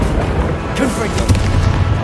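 In the video game Hogwarts Legacy, a Confringo fire spell bursts with a loud, dense booming blast amid continuous combat noise, the explosion rumbling close up over an already busy, roaring background.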